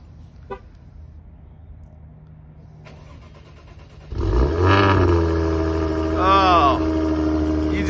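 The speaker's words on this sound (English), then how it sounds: "you can hear that cold start every single time that you walk up to the car" After a quiet stretch with a faint click, a Maserati Quattroporte's engine is remote-started cold, cranks and fires up, then settles into a loud, throaty idle with a rev swelling near the end.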